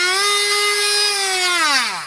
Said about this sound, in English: I don't have one of those fancy cable cutters, so again, I'm just using my Dremel tool.